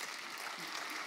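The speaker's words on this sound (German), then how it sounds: "Applaus" Dense broadband clapping from an audience at a German lecture event on Islam in Germany, steady and fairly quiet throughout the short stretch, with no voices over it.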